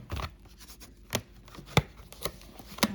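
A knife slicing and tearing open a plastic bag of meat for Ukrainian meatballs, heard as a few sharp crinkly cuts and rustles spaced through a quiet kitchen, close and moderately loud.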